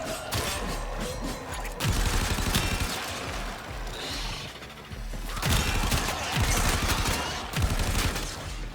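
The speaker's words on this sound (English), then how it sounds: "It seems like it's a barrage of missiles" Rapid volleys of explosive missile impacts from the Warframe video game, with Gauss in play, come in two dense loud bursts of thudding blasts and crackle, separated by a brief lull.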